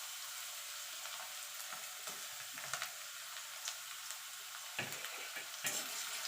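Carrots frying in hot oil over a medium gas flame, a steady, moderately quiet sizzle with a few soft clicks and stirring knocks throughout, no voices.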